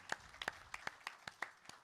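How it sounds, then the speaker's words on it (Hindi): Scattered, sparse hand claps from a small audience at a Hanuman Jayanti fundraising religious gathering, about eight distinct sharp claps spaced irregularly, fairly quiet and with no talking over them. "एक जोरदार ताली बजा कर नो बधाई, नो शुभकामनाएं।"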